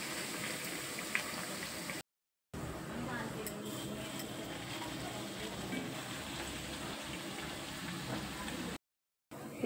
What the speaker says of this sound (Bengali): এইভাবে আমি সবকটা ভেজে নেব